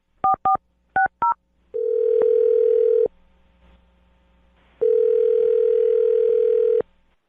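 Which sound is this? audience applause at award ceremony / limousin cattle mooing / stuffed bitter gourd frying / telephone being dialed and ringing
telephone being dialed and ringing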